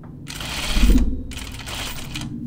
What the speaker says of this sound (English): Stay stitching